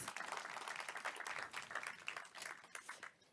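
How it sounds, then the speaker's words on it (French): Crowd applause follows a pastry masterclass by a chef on a chocolate and oat dessert, a soft, distant patter of many hands that runs briefly without pause. "Je pense qu'on peut l'applaudir pour cette superbe masterclass."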